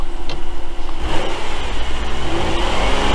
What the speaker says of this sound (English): Then we're going to rev it up a little bit.